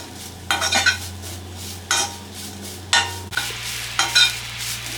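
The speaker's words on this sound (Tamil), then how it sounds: "இப்போ இந்த தேங்காய் வந்து நல்லா கொஞ்சம் நெய்யில் வந்து ரோஸ்ட் பண்ணிக்கலாம்" Grated coconut roasts in ghee in a pan for a sweet kolukattai filling, with a steady close sizzle and scraping stirs about once a second over a low hum.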